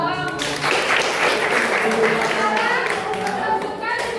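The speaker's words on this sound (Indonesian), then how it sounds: "tepuk tangan dong" Schoolchildren applaud in a classroom, a dense patter of small hands clapping quickly and evenly, with children's voices chattering over it throughout.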